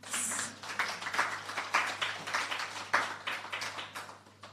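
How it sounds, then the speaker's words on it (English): An audience at the launch of Jamaica's STEM scholarship programme claps in a dense, crackling round of applause that holds steady for a few seconds. "Clap for that."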